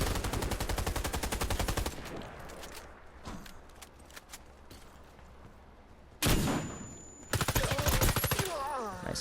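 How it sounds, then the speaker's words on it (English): Rapid-fire gun in the video game Warface: Breakout, with bursts of fast automatic shots opening and closing the stretch and quieter scattered gunfire between, loud and sharp. "this gun does shoot really quickly, but you kind of need to hit headshots for it to be effective"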